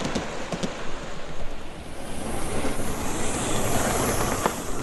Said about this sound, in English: The trains we're running today are a Pullman set, Queen of Scots possibly, or one of the Harrogate Pullmans.